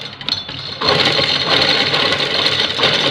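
Sewing machine stitching cut leaf shapes onto a trouser design, starting softly then running in a steady, loud, continuous whir with a slight rhythmic chatter, close up and without talk.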